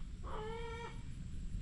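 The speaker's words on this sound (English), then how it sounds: "Chickens." Chickens clucking at moderate distance, a single drawn-out tonal call lasting about half a second over steady low background noise.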